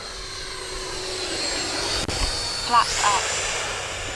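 An FMS Futura 64mm electric ducted-fan RC jet passes slowly with a steady whooshing whine at a moderate distance, while a voice speaks briefly over it.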